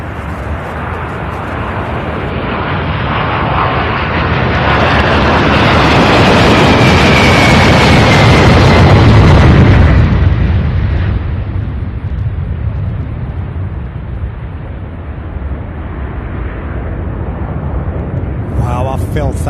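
A heavy aircraft passes low at Louisville International Airport, its roaring rumble building loud and broad to a peak before easing back into a sustained rumble, close enough to be felt; brief voices are heard near the end.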